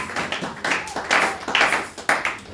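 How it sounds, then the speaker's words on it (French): A church conference congregation claps in praise: rhythmic, pulsing bursts of many hands in a reverberant hall, rising and falling in waves, with a voice faintly underneath. "Est-ce que vous pouvez applaudir pour la gloire de Dieu?"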